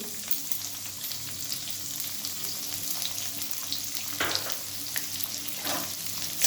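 Chopped onions fry in a pan for a cabbage curry, giving a steady soft sizzle throughout with a brief clatter of stirring near the middle, close and moderately quiet with no talking.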